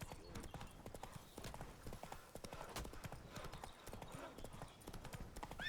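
Horse hooves gallop in The Witcher 3: Blood and Wine video game, a steady, rapid clip-clop that continues throughout over a constant game background.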